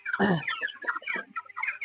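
Twenty-day-old broiler chickens cluck and squawk during weighing, several agitated, close calls overlapping in quick irregular bursts with short pauses between.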